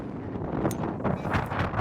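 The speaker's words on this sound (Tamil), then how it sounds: "அந்த அளவுக்கு குளிர்ந்த காற்று வந்து வேகமா வீசுது." Strong cold wind buffets the microphone on a hilltop in the Vasimalaiyan Hills, a continuous loud rumbling roar with gusty swells throughout.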